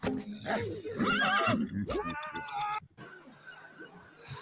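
A horse gives a loud, close, wavering whinny that rises and falls for about two seconds, with voices and noise around it.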